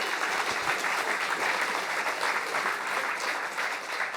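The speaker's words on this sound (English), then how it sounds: "A big round of applause," A DevOps conference audience welcomes a speaker with sustained, evenly textured applause, a continuous close wash of many hands clapping with no talk on top.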